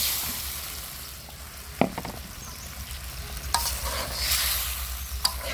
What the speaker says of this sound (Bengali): মাছ মশলা সব একসাথে কষায় নেব।